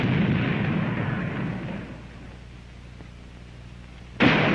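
Mortar fire from a WW2 Landing Ship Medium, a heavy rumbling blast that fades over a couple of seconds into a quieter hum, then a sharp new loud report near the end.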